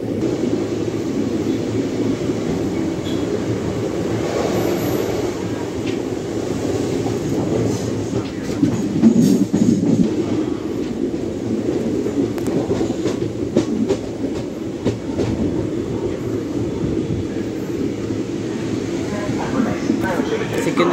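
The Sabari Express from Secundrabad to Trivandrum Central rolls into Thrissur station, a steady low rumble of the moving train with faint clacking of the wheels. A person talks over it throughout.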